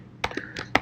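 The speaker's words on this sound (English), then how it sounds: "So I'm going to start typing an essay here." Keys clack on a computer keyboard as an essay is typed in Google Docs: a quick irregular run of about five or six close, crisp taps with no talking.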